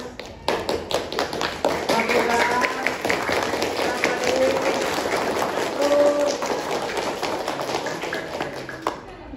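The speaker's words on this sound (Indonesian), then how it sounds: "tepuk tangan untuk semua dulu" A Grade 7 classroom bursts into applause, many hands clapping steadily for several seconds, with chatter and voices mixed in.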